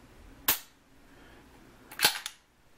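Trigger on a CZ82 pistol chambered in 9x18 Makarov, two sharp, close metallic clicks about a second and a half apart, the second followed by a quick lighter tick, in a quiet room.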